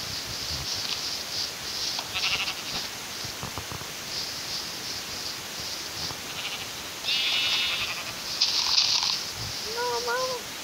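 Sheep bleating in the Minecraft video game, a few short bleats near the end over steady background game noise, with a voice talking over parts of it.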